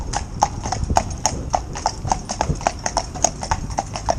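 Gelderlander horses' hooves clip-clop in a steady, close rhythm on a hard surface, with faint voices underneath, as a pair of horses is trained to work together.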